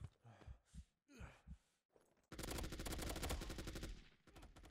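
Rapid automatic gunfire from the mobile first-person shooter Fire Strike rings out as a magazine is emptied. A dense, loud burst of shots follows a few short breathy vocal sounds and a brief pause.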